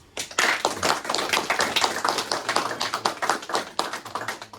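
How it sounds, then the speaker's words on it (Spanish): A church congregation claps together in praise during a Spanish-language sermon: a dense, steady run of hand claps with a loosely rhythmic pulse, filling the room close and fairly loud for the whole stretch. "Dile un aplauso a Cristo."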